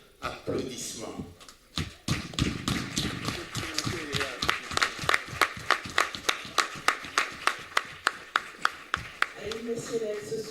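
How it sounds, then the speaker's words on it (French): Applause at an evening ART Cotonou gathering in Benin, a sustained burst of clapping from a crowd, filling the space for about ten seconds, with sharper rhythmic claps toward the end and voices mixed in. "Je vous prie avec une salve applaudissements."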